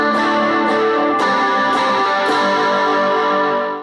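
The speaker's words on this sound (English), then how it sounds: "And then dig in for some crunch." Crunchy overdriven electric guitar chords through a Boss Katana Mini X amp, struck several times and left ringing, loud and close with no talking.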